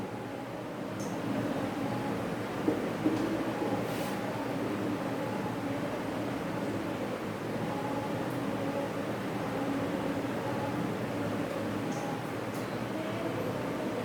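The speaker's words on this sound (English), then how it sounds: "Sound from train." Train recording: a continuous rumbling wash of noise with faint tonal hums and a couple of small knocks early on, steady in level with no talk.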